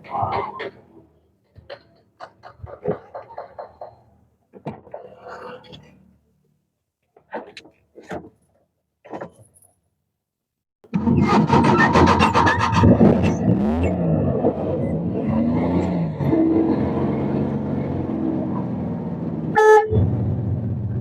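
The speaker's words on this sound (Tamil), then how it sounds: "வண்டி இன்ஜின் ஸ்டார்ட் பண்ணி காட்டுறேன் பாருங்கள்" A used Omni van sits quiet with a few scattered clicks and knocks, then its engine cranks and catches, settling into a loud, steady idle with a short horn toot near the end.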